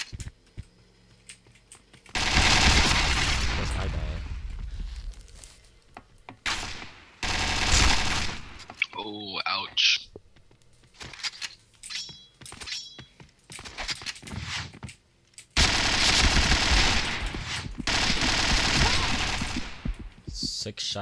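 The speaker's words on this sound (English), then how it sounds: "Shots in the body, and yet I still don't kill him." Bursts of gunfire from the Rules of Survival battle royale game, with dense, loud volleys in several stretches separated by quieter gaps where scattered shots and other game sounds come through.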